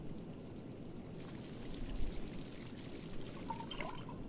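Water pours into a cup in the video game Riddles of Fate: Wild Hunt, a steady splashing trickle lasting several seconds with a brief brighter tone near the end.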